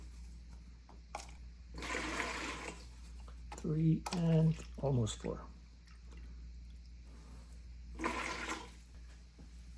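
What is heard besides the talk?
plaster powder and cold water poured into bucket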